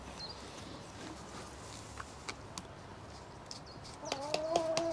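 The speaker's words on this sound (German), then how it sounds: "Corinna füttert die Hühner" Chickens in a garden by a pond, a few clucks and calls rising near the end over steady outdoor background noise and scattered light clicks.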